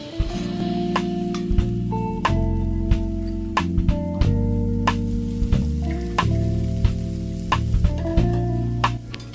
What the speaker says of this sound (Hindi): सो अब मैं यहाँ अनियंस डाल रही हूँ जिन्हें बारीक चॉप कर लिया है। अब इनको भी हल्का सा रूम में रोस्ट कर लूँगी।